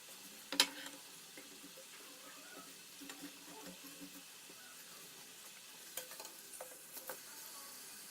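Chicken moon samosas frying in hot oil: a soft, steady sizzle with occasional sharper pops and clinks of stirring, fairly quiet and close, with no one talking.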